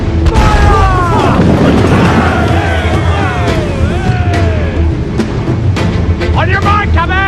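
Cannon fire in Assassin's Creed IV Black Flag booms loudly during a naval battle, with dense rumbling blasts under shouted crew voices and swelling music, ending in a burst of sharper impacts.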